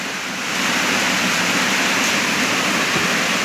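Steady rain falling in a dense, even hiss, loud and close, with no breaks or voices.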